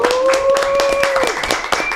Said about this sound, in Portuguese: eu quero pedir um forte aplauso para Renato Cariani e Júlio Balestrin